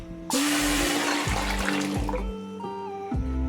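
Peeled hog plums are washed in water, with a burst of running, splashing water starting abruptly. Low clunks and sloshes sound through it up close.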